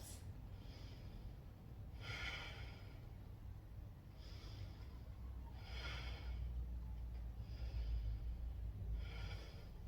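Steady, deliberate breaths from a person holding a yoga core lift with hips raised, with about four audible exhales spaced a few seconds apart over a low, constant background hum.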